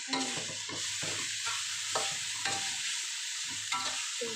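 Minced pork stir-fries in a pan for a Thai basil stir-fry with glass noodles, with a steady sizzle broken by repeated scraping strokes of a spatula, close and even, with no talk.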